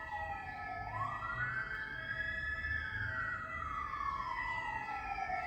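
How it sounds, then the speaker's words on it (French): Emergency vehicle siren passing outside an open door on a hot day in Toulouse, a single wailing tone that rises and slowly falls, distant but clear over a low steady background hum. "Je laisse passer les sirènes."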